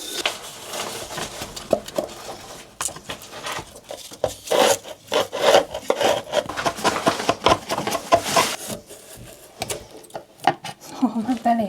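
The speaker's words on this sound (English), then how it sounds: "You have to cork that window. Yeah, I'll have to cut the cork off and then put fresh on." Old cork caulk being cut and scraped from a window frame during a bedroom makeover, with close, irregular woody rasps and scrapes that come in uneven bursts.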